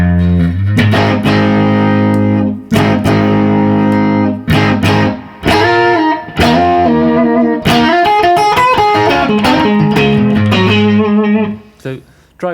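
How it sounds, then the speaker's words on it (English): An electric guitar played through a Duellist dual overdrive pedal on its Drive B channel gives loud, fat, distorted blues chords and riffs with short pauses between phrases. "So Drive B is great for those kind of fat blues tones."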